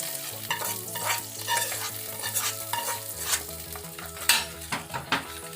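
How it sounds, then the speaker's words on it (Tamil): Hot tempering is poured into curd vada batter and stirred in, giving a soft sizzle and repeated scraping stirs against the bowl, close and alone. "இப்போ இந்த தாளிச்சதெல்லாம் கொட்டிடுறேன்."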